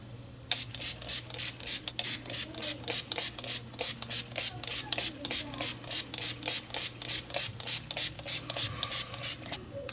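NYX Professional Makeup Matte Finish setting spray pumped in quick rapid bursts, about thirty short hissing spritzes in a steady rhythm, close and clear against a faint background hum.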